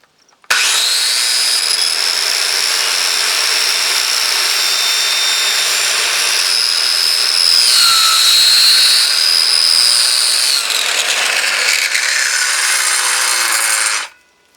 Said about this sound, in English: I can't cut all the way through it with my skill saw, but I can cut part way through it.